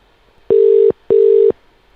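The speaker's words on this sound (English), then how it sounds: "That sounds like it's ringing." A telephone line ringing tone sounds two clear, loud electronic buzzes, each about half a second long with a short gap between.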